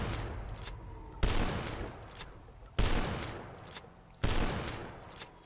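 A double-barrel shotgun fires in the video game Dusk, four heavy blasts spaced about a second and a half apart, each with a sharp onset and a long decaying tail, loud and alone.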